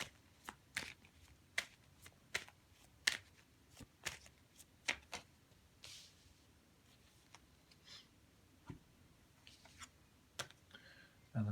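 Tarot cards being shuffled and pulled, giving a run of sharp, distinct snaps and flicks at irregular intervals, close up and fairly quiet, with a soft rustle in between and no talking.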